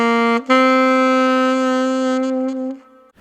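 An alto saxophone plays a short ascending phrase starting on the third, a quick step into one long, clear sustained note that fades out.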